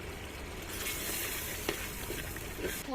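A steady, fairly loud sizzle comes from a pot of frying chicken for handi-style khichuri as tomato pieces and sugar go in, with a few light scrapes and knocks along the way.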